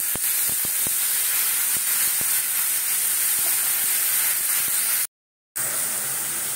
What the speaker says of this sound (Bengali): মাশরুমের কাঁচা গন্ধটা যাতে চলে যায়, এই জন্য এইভাবে একটু তেলে নাড়িয়ে নিচ্ছি